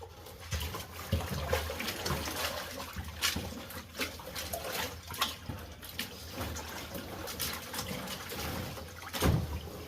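Water runs through a two-stage gold sluice with mats, a steady, fairly faint rush and splash with scattered louder sloshes and trickles throughout.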